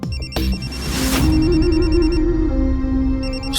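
A telephone rings loudly and steadily, its electronic ringtone repeating in bursts over a background of dramatic music, with no talking.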